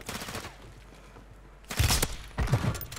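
Sniper rifle gunfire rings out in a video game: two sharp, loud shots about half a second apart after a quieter stretch of faint background noise.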